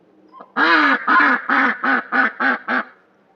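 A duck quacks loudly and repeatedly, seven harsh quacks in a steady, slightly quickening run, close by with nothing else around them.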